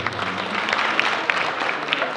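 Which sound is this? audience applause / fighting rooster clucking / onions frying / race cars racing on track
audience applause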